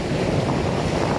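Ocean waves break on a beach in a continuous, loud rush of surf mixed with heavy wind buffeting the microphone, with no talking.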